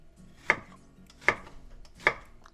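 A knife chops cabbage and onion on a board in three sharp, evenly spaced strokes, close and clear with no talking.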